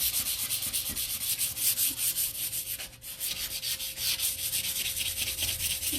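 Wood is sanded by hand with steady, gritty back-and-forth rubbing strokes, close and continuous with a brief pause near the middle.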